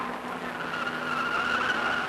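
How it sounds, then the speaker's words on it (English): A Volkswagen Rabbit showroom stock race car climbs a hill at a 1980 national championship, its tires squealing in a sustained, wavering whine over engine noise. "grinding away the front end of his Volkswagen Rabbit"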